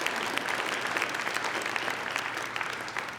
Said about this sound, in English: A big round of applause, please, for Ellen, for our partner in creating this program.